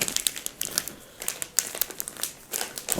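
A plastic bag of semolina fishing bait being handled, giving close, continuous crinkling with sharp crackles throughout.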